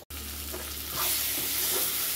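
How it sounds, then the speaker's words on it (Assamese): Steady sizzling and crackling of boiled elephant apple and potato frying in a pan, with occasional stirring scrapes, close and fairly loud with no talking. "ঔটেঙা আৰু আলুখিনি সিজাই লোৱা ভাজি লৈছোঁ"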